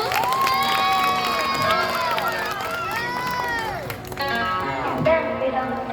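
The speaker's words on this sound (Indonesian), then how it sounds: "Boleh minta tepuk tangannya dulu?" A school audience at a class 5A performance of the musical drama Lutung Kasarung cheers loudly, with excited children shouting and whooping over a dense crowd roar that runs steadily for several seconds.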